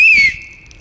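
A single short, shrill whistle blast, loud and close, that starts high, dips slightly, and fades over under a second.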